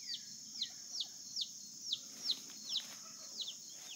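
Chicks roosting in a tree with their mother hen on a family farm give thin, high peeps at a steady half-second rhythm, faint and close, over a constant high insect-like hum and low background murmur.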